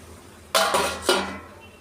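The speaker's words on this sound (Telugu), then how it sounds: "ఇప్పుడైతే మూత పెట్టేసుకుందాం." Metal lid set onto a cooking pot of fish curry: a close, sharp clang followed by a second clattering knock as it settles, ringing briefly before fading.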